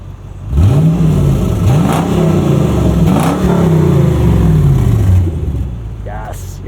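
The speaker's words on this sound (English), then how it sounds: "We need a rev. We need to hear that." A 2000 Lexus LX 470 with a muffler delete revs hard, its engine climbing and falling through several loud, raspy sweeps before settling back toward idle.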